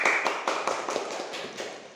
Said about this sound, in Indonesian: Tepuk tangan untuk Mbak Jelita dulu.